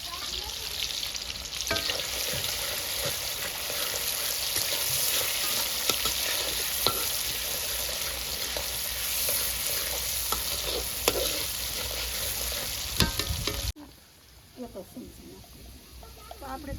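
Tomatoes and spices sizzle in hot oil in a tempering pan for jowar dhokla, a steady close frying hiss with scraping stirs, ending abruptly and giving way to quieter kitchen sounds and a voice.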